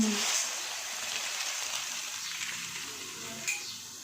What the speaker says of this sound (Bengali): মুড়ি দিয়ে লাল লাল করে ভেজে নেব